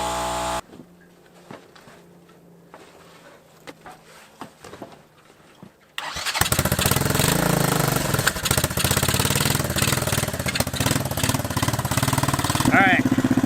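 A revived three-wheeler with a 200 engine roars loudly and steadily once it starts up out on a track, after a few seconds of quieter low idling that has voices over it.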